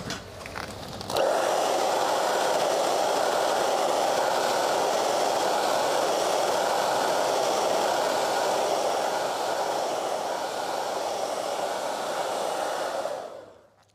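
A hair dryer blows steadily to dry fresh paint while painting a barn, switching on after a brief moment and running loud and continuous for about twelve seconds before cutting off.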